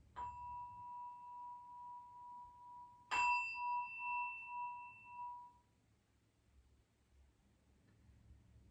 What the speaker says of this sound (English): Keep relaxing as the bell rings.